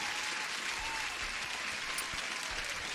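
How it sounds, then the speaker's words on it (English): Applause sound effect on a live stream, a steady wash of clapping held at an even level for the whole stretch, with no voices over it. "And applause for everyone who's here."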